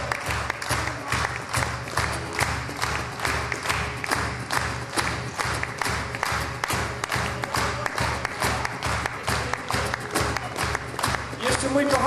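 An audience at a Christmas gospel concert applauds a musician, clapping together in a steady, even rhythm that stays at a constant moderate level throughout.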